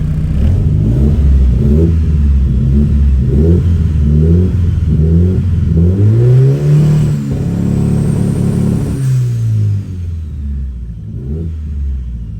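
A 1988 Mitsubishi Starion turbo engine, prepped for a meet, revs repeatedly on two-step, with loud, close rumbling surges that rise and fall in a broken rhythm and then settle to idle.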